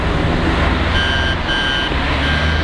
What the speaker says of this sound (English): Why is it beeping at me, bro?